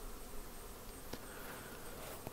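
Honey bees buzz around a Flow Hive during a honey harvest, a soft continuous droning hum close by with a faint click, no voices.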